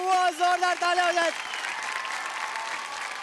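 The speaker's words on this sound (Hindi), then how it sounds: "वो जोरदार तालियां हो जाए" A studio audience on a TV children's drama talent show applauds after the judges' scores. A short tonal musical sting comes first, then a sustained, even roar of clapping fills the rest.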